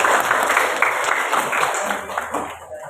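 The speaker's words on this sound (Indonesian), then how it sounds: "Tepuk tangan semuanya." An audience claps after a teacher's coaching presentation, a full burst of applause that thins out toward the end, with a voice briefly heard over it.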